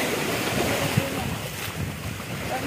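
Broadband rushing wash of sea waves and strong wind buffeting the microphone at the shore, steady and loud throughout with no clear individual breakers.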